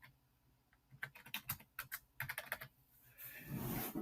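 Rapid, close keystrokes on a computer keyboard as an FTP address for a nanodac recorder/controller is typed, an uneven burst of clicks that ends in a louder rushing noise.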